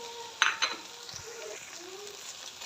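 Maida flour being stirred and roasted in a pan with cooked chicken for a chicken cream sandwich, a faint steady sizzle with a couple of sharp utensil clinks against the pan, soft and close.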